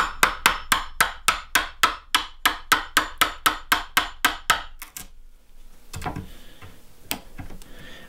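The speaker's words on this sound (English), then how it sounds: "now we can take the chisel and work this little spot out of here" A hammer strikes a chisel into wood while cutting out a spot for a Dutch door on a tiny house build, about eighteen sharp, evenly spaced blows in a fast steady rhythm, then a pause and a few scattered knocks.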